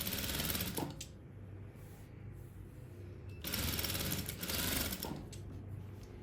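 A sewing machine runs steadily while stitching a kimono seam, a continuous whirring buzz that briefly eases off and then picks up again, with no talking.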